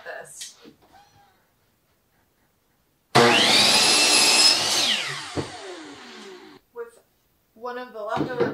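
Power saw cutting through a wooden fence picket board, a loud, close burst of whining blade and cutting noise lasting a few seconds before spinning down, with brief talk before and after.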